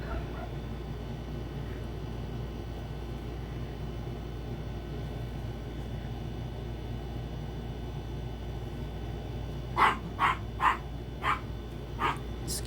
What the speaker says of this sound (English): Excuse the puppy dogs.